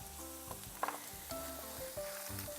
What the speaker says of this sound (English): Spread the garlic bits around in the pan so that they're not all sitting in one spot.